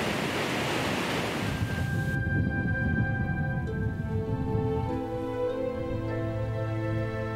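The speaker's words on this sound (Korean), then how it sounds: "장쾌한 폭포 소리가 점차 커진다." Vernal Fall in Yosemite National Park roars as a steady, broadband rush of falling water, loud and continuous, then thins as a tonal hum rises over it in the second half.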